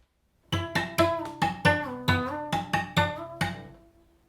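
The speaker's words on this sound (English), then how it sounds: "I can use my bow sort of like a drumstick on the strings." Cello strings struck with the wooden side of the bow like a drumstick, a steady rhythm of about a dozen sharp percussive hits, each leaving a short pitched ring, close and clear.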